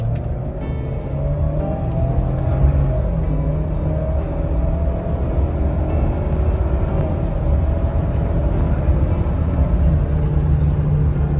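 A 2022 Ford Explorer XLT AWD with a 300-horsepower turbo four-cylinder accelerating hard, a low steady engine drone with rising tone and road rumble heard from inside the cabin, continuous without talk.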